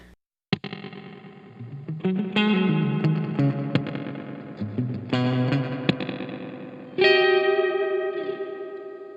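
A guitar played through the spring reverb of an AXE MX300 multi-effects unit produces struck, distorted notes and chords with long reverberant tails that bloom and decay, loud and close with no talking.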